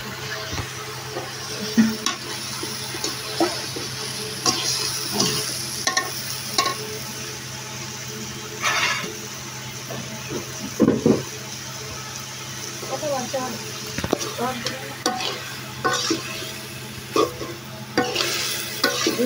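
Food fries in a pan with an ongoing sizzle as a utensil stirs, making repeated scraping and clinking strokes up close; voices can be heard talking now and then.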